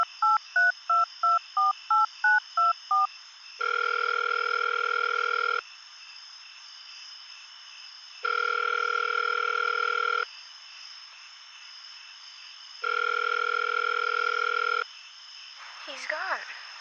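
Telephone dialing in a radio drama: a quick run of about ten touch-tone beeps, then three long, steady dial-tone bursts separated by pauses, ending in a brief burst of noise.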